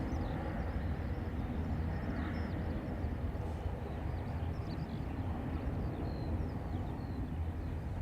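A Ryanair airliner landing on runway 28 right at Dublin Airport, heard as a steady, broad jet engine roar with rumbling low end, moderately distant and continuous, with no voices.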